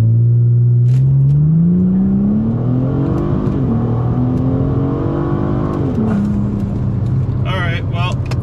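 A 2014 Ford Taurus SHO with boost launches hard, its engine note climbing steeply through the revs, dropping at a gear change and rising again, loud and close from inside the cabin with voices talking over it.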